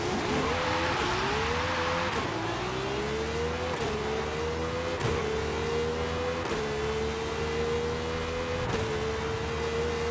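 BMW cars racing in the Forza Horizon 5 video game, with one engine's loud, close roar climbing in pitch and dropping sharply at each gear shift, repeated steadily with no talking.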